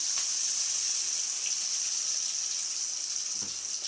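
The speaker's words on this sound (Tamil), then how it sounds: "தேவையான அளவுக்கு தண்ணி ஆட் பண்ணிக்கலாம்" Water pouring steadily into ground chutney in a continuous hissing gush, close and fairly loud, with a few faint clinks underneath.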